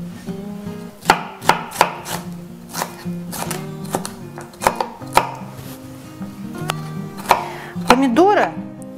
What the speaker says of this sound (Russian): Освобождаем его от семян и от перепонок. И тоже нарезаем кубиком.